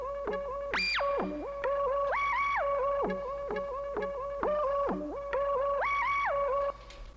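A bright synth lead in Octave Deluxe, played in legato mode in FL Studio, glides smoothly between sustained notes in a repeating melodic phrase, clear and steady with no voices.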